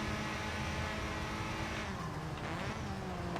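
Bright orange Ford Focus RS racing car in Forza Motorsport 7, its engine droning loudly and continuously at high revs, with tire noise and a slight pitch shift midway as it runs in close traffic.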